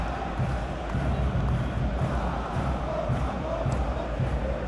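A dense stadium crowd roaring throughout a Chile versus Argentina football match in the PES 2021 video game, a steady, loud wall of cheering and chanting with no clear pauses.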